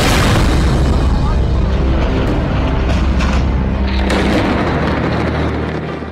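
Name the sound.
heavy bombardment explosions in Beirut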